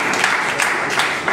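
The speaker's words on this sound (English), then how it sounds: "A round of applause for JD." Brief burst of audience applause at a debate, steady, close and full-bodied clapping with no talk over it.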